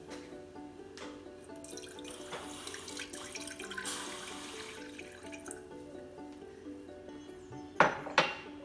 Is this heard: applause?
no